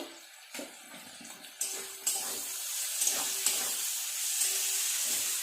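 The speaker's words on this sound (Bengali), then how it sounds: "এবার একটু নেড়ে ছেড়ে এইভাবে সবজিগুলো ভালো করে ভেজে নেব।" Onion, green chilli and vegetables for chowmein fry in a pan, a bright steady hiss and sizzle building after a few sharp clatters and stirring knocks, close up with no talking.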